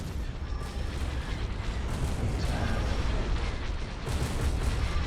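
Heavy cannon fire in a space strategy game, a dense continuous barrage of booming blasts and rumbling impacts at steady loudness throughout, with no pauses.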